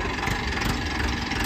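An Arjun 605 tractor with a shuttle gearbox idles nearby, a steady, even diesel rumble with a dense low throb that holds constant throughout, with no voices.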